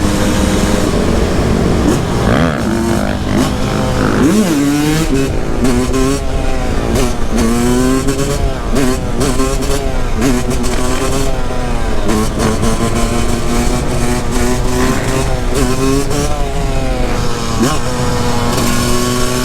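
A street-legal two-stroke supermoto motorcycle revs hard and shifts through gears on a twisty road, its buzzing engine rising and falling in repeated sweeps, loud and close throughout, with the rider occasionally talking over it.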